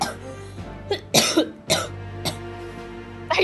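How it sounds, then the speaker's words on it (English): A person coughs several times in short separate bursts, close and fairly loud, with a gap between each, and a faint murmur underneath. "just a slight cough"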